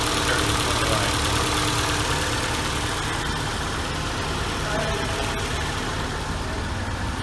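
A 2010 Ford with mold and mouse damage idles steadily nearby, a continuous loud engine drone with a low rumble and no break, and no talking over it.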